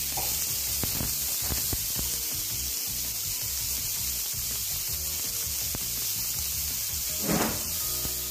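Green chillies and tomato slices roast in a pan, giving a continuous loud hissing sizzle with scattered scraping and rubbing sounds as they are stirred.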